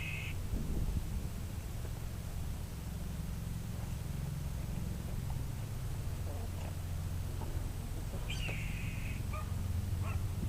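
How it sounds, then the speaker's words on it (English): A small hawk gives two brief, high calls, one at the start and another near the end, heard at moderate distance over a steady low background rumble. "That sounds like a small hawk type bird"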